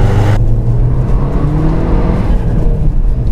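An older Audi S3 under hard acceleration, heard close and loud from inside: a continuous strong engine roar with a rising drone that holds steady throughout, with no talk over it.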